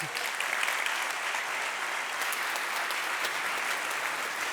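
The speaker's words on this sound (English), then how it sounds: "round of applause" Steady audience applause fills a theatre at a tech meetup kickoff, a dense, even wash of many hands clapping that holds at a constant level throughout with no talk over it.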